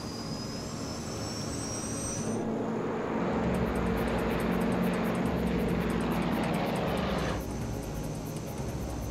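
Jet airliner taking off, a steady loud roar of engines rising through the takeoff run, with a faint high whine early on; no talk.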